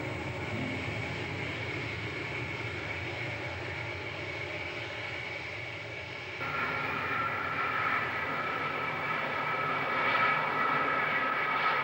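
Concorde 002 airliner on its test flight, a steady, loud jet engine roar that holds for about twelve seconds and swells slightly louder halfway through, with no voices.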